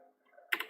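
A few quick keystrokes clatter on a computer keyboard as a web address is entered, a short close burst of clicks following a quiet moment.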